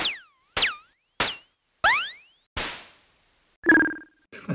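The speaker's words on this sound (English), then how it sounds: "And some more lasers." Analog laser zaps from a Behringer CAT synthesizer: a string of separate pitch-sweeping blips, several swooping down and two rising, then a buzzier warbling tone, loud and alone with short gaps between them.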